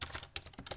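Rapid keystrokes clatter on a computer keyboard while a command is entered at a PC, a quick uneven run of close, quiet clicks with no voice.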